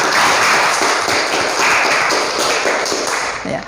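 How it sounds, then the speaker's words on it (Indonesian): A classroom of students claps together in a dense, lively burst of applause that carries on for several seconds before tapering off. "tepuk tangan untuk kalian semuanya"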